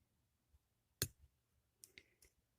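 Scissors snip paper while cutting out a patriotic paper snowflake: one sharp, close snip, then a quick cluster of lighter clicks a moment later, with no voices.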